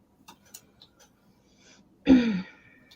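A single short, harsh cough bursts out close by after a stretch of near silence with faint ticks and small noises.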